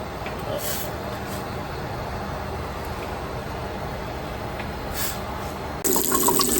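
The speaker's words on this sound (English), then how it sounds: "I put them in the strainer and run some cold water over them so they stop cooking" Cold tap water pouring steadily over noodles in a kitchen strainer, a continuous splashing flow with a brief louder gush at the end and faint talk underneath.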